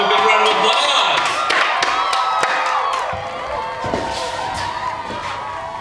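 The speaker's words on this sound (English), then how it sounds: "Let's give a big round of applause." Studio audience at a late-night talk show applauding and cheering as guests are brought on stage, a loud, dense crowd roar with scattered whoops and sharp thuds, continuous throughout and easing slightly toward the end.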